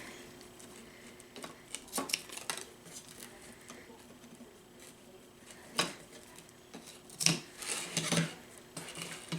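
Scissors snipping ribbon off a small Valentine's wreath sign, a few faint, scattered clicks and rustles of handling, close and quiet.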